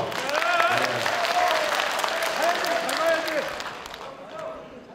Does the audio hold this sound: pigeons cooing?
no